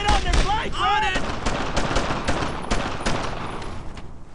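Gunfire in the World War II shooter Brothers in Arms: Earned in Blood, a dense, continuous crackle of rifle and machine-gun shots with a shouted voice near the start, all at loud battlefield level.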